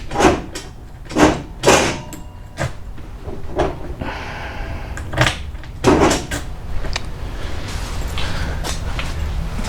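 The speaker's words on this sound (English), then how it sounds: "if I push this drawer just a hair, it'll go" A drawer of a Husky 72-inch 15-drawer triple-bay tool box slides and clunks several times close by, with sharp knocks followed by a longer rolling scrape.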